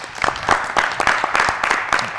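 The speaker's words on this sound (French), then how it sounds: "On s'applaudit bien fort." Audience applause fills a studio discussion show: dense, steady clapping with sharp individual claps standing out, sustained and fairly loud for the whole stretch.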